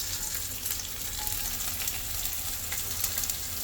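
Soaked dried shrimp frying in a pan of oil, giving a dense, continuous crackling sizzle with tiny pops throughout, steady and close with no voices.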